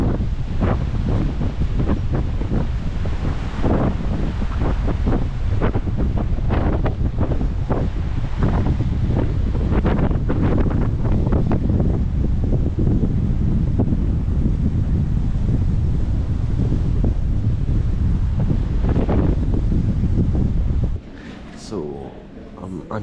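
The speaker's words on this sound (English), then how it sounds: "Now we are at the Lake Chuzenji and the wind is incredibly strong." Strong gale blowing across Lake Chuzenji in Nikko, a loud, continuous roar of wind buffeting the microphone with gusty surges, cutting off abruptly near the end.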